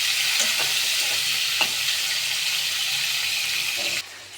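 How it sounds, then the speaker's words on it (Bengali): Dried fish (shutki) sizzles steadily in hot oil in a home kitchen pan, a loud continuous crackle with occasional stirring clinks, before the sound drops off abruptly near the end. "আমি প্রথম তেলে ভেজে নেব শুটকিটা"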